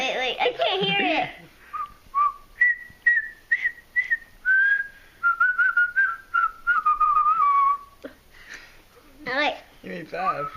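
Several pet canaries in a house give high, bright whistled trills and chirping phrases at close range, running steadily for most of the stretch, with voices talking briefly at the start and again near the end.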